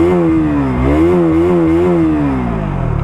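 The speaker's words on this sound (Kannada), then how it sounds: "ಇಂಜಿನ್ನ ಸೌಂಡ್ ಈ ಥರ ಕೇಳಿಸುತ್ತೆ," A 2025 KTM Duke 200 single-cylinder motorcycle revs loudly up close, the engine note rising and falling in smooth swells through its exhaust, steady and alone without speech.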